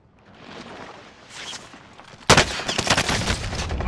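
Gunfire in the video game Call of Duty: after a quiet stretch of faint footsteps, a sudden loud burst of rapid shots erupts and keeps rattling on to the end.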